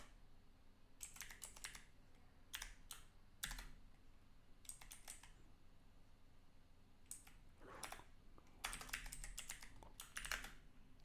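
Keys clatter on a computer keyboard in quiet bursts of rapid typing separated by short pauses, heard close and soft while PHP code is written.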